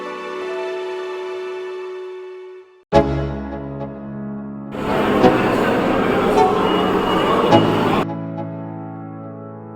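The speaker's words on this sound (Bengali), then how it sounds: "এখান থেকে আমরা ইস্ট ওয়েস্ট মেট্রো করে গঙ্গার তলা দিয়ে পাড়ি দেবো হাওড়া ময়দানের উদ্দেশ্যে" A Kolkata East-West Metro train at an underground station, with a steady rumbling hum, a sudden loud whoosh about a third of the way in, then a dense roar of the arriving train that drops back to a quieter electric drone.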